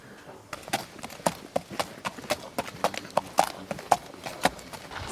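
A horse fitted with special orthopedic shoes walks on a hard surface, hooves clip-clopping in a steady, even rhythm of crisp close strikes throughout.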